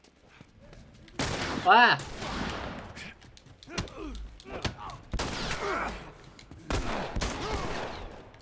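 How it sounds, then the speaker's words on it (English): Bursts of gunfire in The Last of Us, repeated shots and volleys in irregular clusters, with a player crying out in pain between them. "God, I'm getting shot at right now."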